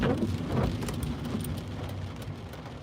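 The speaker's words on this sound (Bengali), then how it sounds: "বৃষ্টির কারণে কিছু দেখতে পাচ্ছি না এত বৃষ্টি হচ্ছে" Heavy rain patters and hisses against a vehicle while driving, with a low rumbling background, fairly soft and continuous throughout.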